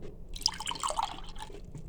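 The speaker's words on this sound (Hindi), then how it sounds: "यहाँ पे हमने गिलास लिया है, इसमें हम शरबत को डालेंगे।" Jaggery sharbat is poured into a glass in a short, quiet, splashing trickle that lasts under two seconds, with nothing else audible.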